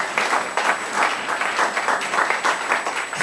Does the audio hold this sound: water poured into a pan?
no